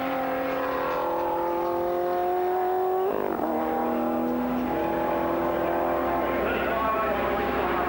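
Ferrari 550 Maranello GT race car with front-mounted engine at Silverstone, a steady high engine howl that drops sharply on a gear change, then climbs again, heard under continuous commentary.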